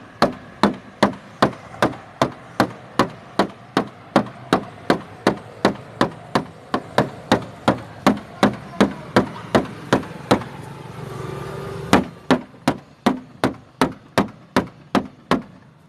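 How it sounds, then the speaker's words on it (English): Bottle cap striking the coated body panel of a Maruti Vitara Brezza during a scratch test, a sharp metallic tap repeated steadily about twice a second, close and loud, with a short pause of scraping before the taps resume. "This is what is the condition of the bottle cap by which we have hit the car"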